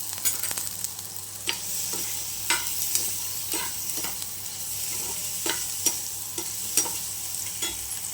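Food fries in a pan with a steady close sizzle, broken by occasional stirring scrapes and clinks at irregular intervals, with no voices.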